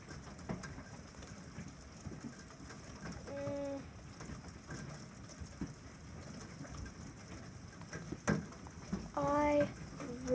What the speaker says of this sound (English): It is hailing.